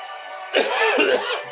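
A single harsh cough rings out close by over a steady electronic hum, rough and throaty.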